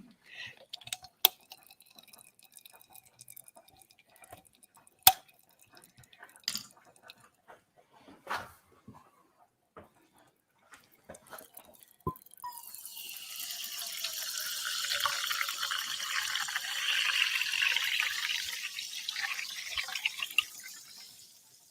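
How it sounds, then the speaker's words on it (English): Sparkling water poured from a bottle while a Dutch meal is cooked, a few sharp clicks and drips first, then a sustained fizzy gush of liquid filling a glass for about ten seconds. "200 milliliters of sparkling water."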